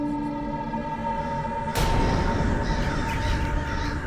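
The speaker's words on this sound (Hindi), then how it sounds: "पुनः एक बार ये कौवे अपना झुंड बनाकर तबाही मचाने आ रहे हैं" A flock of crows caws in a harsh, repeated chorus in the Tenali Rama television series, then a sudden loud boom cuts in and leaves a dense, rumbling clamour of birds.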